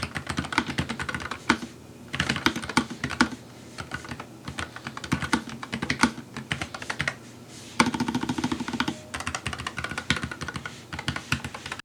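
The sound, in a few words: typing on keyboard with linear low profile switches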